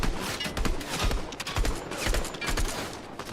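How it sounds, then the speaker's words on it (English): Rapid bursts of gunfire in a Fortnite match during a global championship tournament, sharp overlapping shots crackling in quick volleys throughout, fairly loud and busy with no talk over them. "Someone's trying to shoot at me from like east somewhere, like northeast kind of way."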